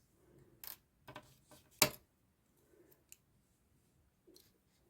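Scissors snip the loose thread end after stitching a zip in place on a sewn notion pouch, giving one sharp close click among a few softer faint handling taps in a quiet room.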